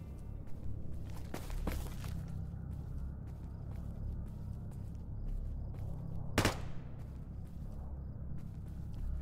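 Gunfire in the survival shooter STALKER GAMMA: one sharp, loud shot cracks out midway, with a couple of fainter reports earlier, over a steady low rumble of ambient game noise.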